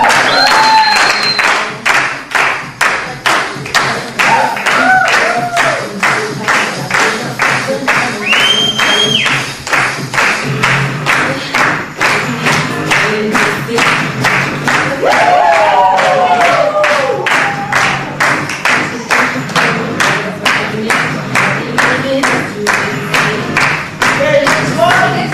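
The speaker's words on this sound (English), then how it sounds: "Give it a big applause." An audience at the close of a 2008 acting workshop performance claps steadily and rhythmically for nearly half a minute, dense and close, with faint murmurs and a few calls underneath.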